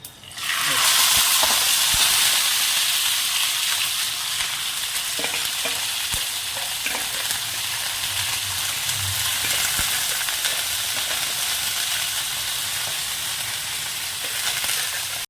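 Ivy gourd is sautéed with mustard seeds in hot oil for pickle. A loud, unbroken sizzle and hiss holds for the whole stretch, with faint stirring knocks now and then.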